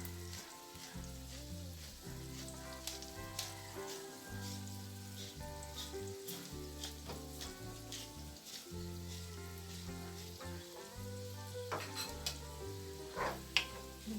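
Pan-fried potatoes sizzle steadily in a hot pan with salt and pepper, a dense crackling fry broken by frequent sharp pops and occasional stirring clatter, close and continuous.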